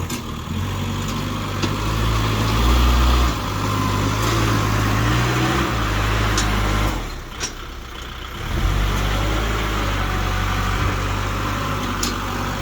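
A tractor engine pushes soil and tree branches on soft, sinking ground while filling land, running loud and steady with a low rumbling drone that dips briefly midway before resuming at full load.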